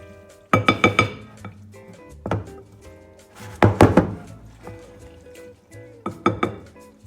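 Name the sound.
mixing ceviche in a bowl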